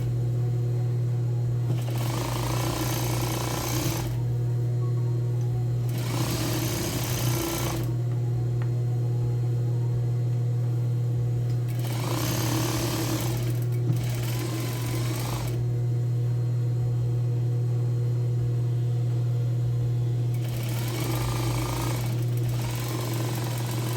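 A sewing machine runs in several bursts of a few seconds each, stitching a seam inward on a woman's three-quarter-sleeve shirt dress, over a steady low hum.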